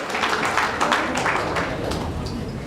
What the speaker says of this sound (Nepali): हामी परमेश्वर धन्यवाद दिनेछौँ ताली बजाएर